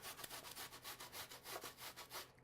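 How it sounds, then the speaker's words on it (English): Onion being grated on the thin side of a box grater for turkey patty melts: steady, rapid scraping strokes in a continuous rhythm, close and fairly loud, with no talking. "I'm just going to grate using my thin side here. I'm just going to grate a little bit of onion."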